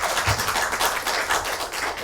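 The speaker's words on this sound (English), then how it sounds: "Let us all give our judges a big round of applause to show our appreciation." Audience applause for the judges at a business case competition, a dense steady patter of many hands clapping up close, with no voices.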